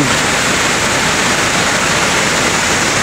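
Steady, dense roar of falling water from Tamaraw Falls in Puerto Galera, loud and continuous throughout with no breaks, like standing close to the waterfall.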